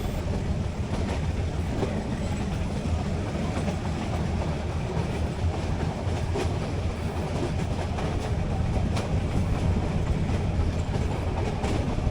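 A metre gauge train running between Junagadh and Sasan Gir: a continuous rumble of rolling wheels and rattling carriages with occasional rhythmic clicks, steady and close throughout, with no talk.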